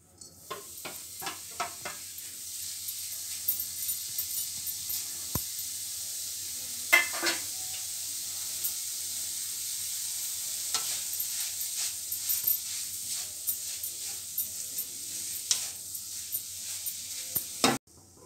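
Khoya roasts in a pan with a faint continuous sizzle, punctuated by light scraping and stirring clicks at irregular intervals, with no voices.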